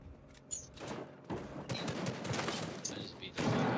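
Rapid bursts of gunfire from a Fortnite match as an opponent is shot, loud and dense with sharp impacts and game effects, while a player talks over part of it.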